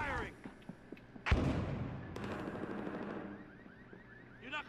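Video game gunfire in Battlefield Hardline, a big burst of shots at mid-clip with smaller sharp cracks before it and a rattling spray afterward, all set against game background noise and faint radio-style voices.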